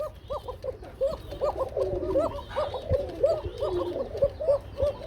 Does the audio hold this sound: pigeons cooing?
yes